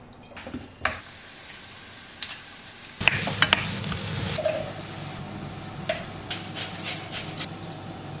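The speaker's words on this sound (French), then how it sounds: "Que vous faites revenir à la poêle." Ingredients browning in a frying pan, a steady sizzle with scraping and stirring clatter that grows louder partway through, with a few sharper utensil knocks against the pan.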